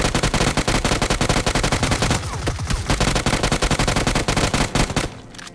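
Continuous automatic gunfire from a gun in the mobile game BGMI, a rapid, steady stream of loud shots for several seconds that stops abruptly near the end.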